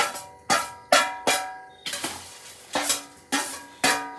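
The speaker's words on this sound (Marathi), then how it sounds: "आता आपण सगळं मिक्स करून घेतोय." Poha chivda ingredients are tossed and mixed in a pan, about eight sharp rhythmic scraping, rustling strokes roughly every half second, each fading quickly, close and clear with no talk.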